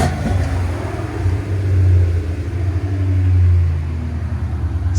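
A supercharged Ford Mustang GT with a 5.0L V8, headers and a Legato axle-back exhaust gives off a loud, steady, deep rumble close by, swelling slightly twice as it idles, with no voices.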